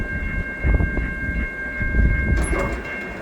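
A CN stack train and a mixed freight train meet in St Henri, Montreal, in winter, giving a steady rumbling roll with rhythmic wheel clatter, fairly close, with a high squeal near the end.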